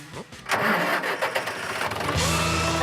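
A tractor engine cranks and catches, then settles into a loud, steady rumbling idle close by.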